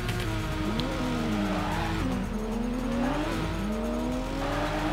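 Toyota Supra cars drifting in the racing game Torque Drift, a constant loud engine drone with rising and falling revs and tire squeal throughout.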